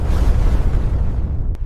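A deep, sustained rumbling blast stands in for the explosion of two neutron stars colliding into a kilonova, loud and dense at the low end, holding steady and then briefly trailing off.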